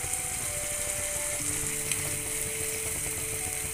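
Onion with ginger garlic paste frying for pav bhaji, a steady close sizzle throughout with faint scraping and tonal hum underneath, no talk.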